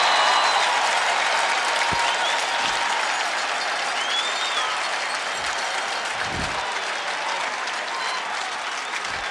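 Dense, steady applause and cheering from a stadium crowd at a 1994 NCAA men's lacrosse game between Syracuse and Loyola, loud and continuous throughout with a few low thumps underneath.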